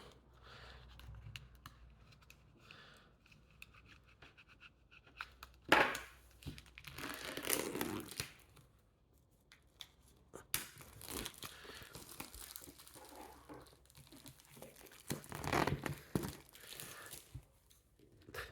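Package of comics opened with a small knife, close crinkling, crumpling and tearing of wrapping in irregular bursts, quiet between louder scraping rustles, with no voices.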